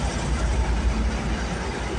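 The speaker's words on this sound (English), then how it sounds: "I don't know why the fuck this train's going pretty slow" A CN freight train rolls slowly past Aldershot GO station in Burlington, Ontario, with a loud, steady low rumble of wheels and engine filling the whole stretch and no voices.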